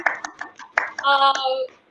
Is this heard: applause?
yes